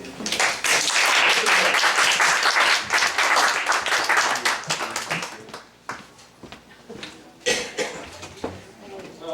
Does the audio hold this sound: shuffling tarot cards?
no